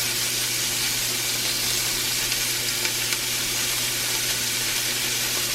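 Loud, steady sizzling of flank steak frying in a hot cast iron skillet, a dense continuous hiss with faint crackles throughout, close by.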